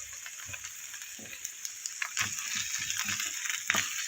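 Chicken feet frying in a pan, with a quiet, steady sizzle and crackle and a few soft stirring scrapes, heard close and alone.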